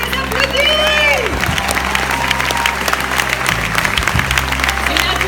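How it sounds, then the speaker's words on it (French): A crowd applauds the volunteers at a live show, steady dense clapping filling the clip, with a voice speaking over it and some cheering and musical tones mixed in. "Les bénévoles sont là, on les applaudit."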